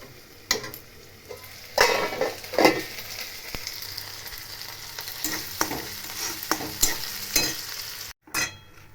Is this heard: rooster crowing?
no